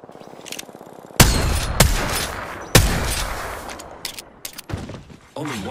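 Apex Legends gunfire crackles in sharp, loud bursts, with several heavy shots punctuating the first half and lighter scattered rounds trailing off, set against the game's background ambience.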